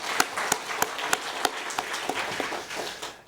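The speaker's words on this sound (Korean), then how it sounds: "우리 박수로 한번 격려하겠습니다" A church congregation applauds at a Friday healing prayer service, a moderately loud wash of clapping with sharp periodic accents, steady for about three seconds with no talk.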